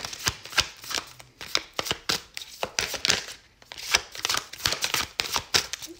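Tarot deck being shuffled by hand during a love card reading, giving a steady run of crisp riffling slaps and card flutters, close and fairly loud, with no talking.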